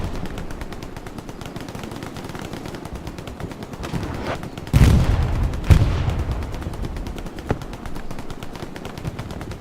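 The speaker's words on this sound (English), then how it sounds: "Some rockets going off over there. Just some infantry fighting." Battlefield din in Hell Let Loose on the Utah map: steady crackling infantry gunfire with rockets bursting in two heavy booms midway, continuous and dense, no voices.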